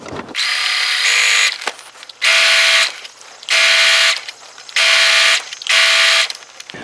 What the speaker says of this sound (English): Okay, machine, calm down. Now I'm sewing black on black